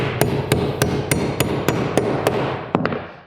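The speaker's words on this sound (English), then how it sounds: "we're ready to nail this off" Nails hammered into plywood wall sheathing on a framed wall, about ten sharp, evenly spaced strikes close by, with a quicker double hit near the end and no talking.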